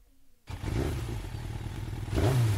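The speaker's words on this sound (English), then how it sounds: "It's the motorcycles." Motorcycles pass outside, a rumbling engine rising in after a quiet start and swelling again near the end as another bike revs past, muffled as if heard from indoors.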